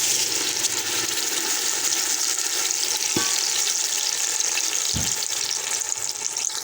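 A ground paste of ginger, garlic, onion and green chili sizzles in hot ghee for a chicken wing gravy, a steady close crackling hiss with a couple of soft spoon knocks in the pan.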